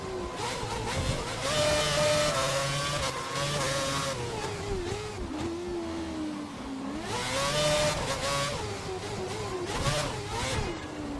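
A Formula One car in a racing video game set at the 2011 Monaco race, heard through a pit stop as its engine note rises and falls in repeated revving sweeps, moderately loud and steady, with no voices over it.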